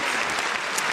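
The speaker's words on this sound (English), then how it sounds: "Round of applause to everybody over at Residency." Dense applause from an audience during a sports talk show, a steady wash of clapping with no gaps, fairly loud and close, filling the entire second.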